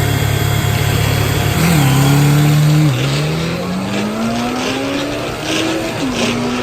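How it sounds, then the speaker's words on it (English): An old school Suzuki GS 440 motorcycle at a bracket drag race, its engine loud and close, revving hard with rising pitch sweeps as it shifts through gears, a steady roar across the whole run. "here comes an old school Suzuki GS 440"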